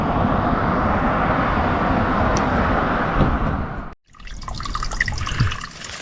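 A small Appalachian Trail stream with weak flow makes a steady, close rushing trickle for about four seconds, then cuts to a quieter scene with light dripping and splashing water.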